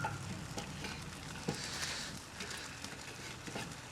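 Chicken leg quarters sizzling on a Weber kettle grill after being flipped, a soft continuous frying crackle heard faintly and alone, with a few small knocks.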